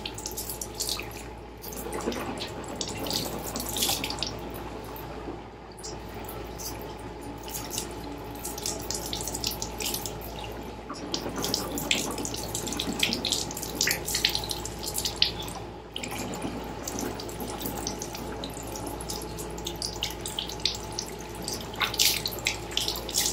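Steady running water from a tap pours into a sink for rinsing the mouth during ablutions, a continuous close splashing stream with small drip and gurgle variations throughout.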